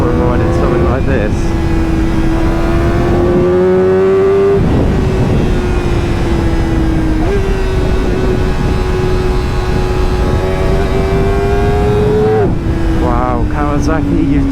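Kawasaki Ninja ZX4RR motorcycle engine under way on a ride, a steady high-pitched whine that holds pitch with small shifts and gear-change dips, loud and close with wind noise throughout.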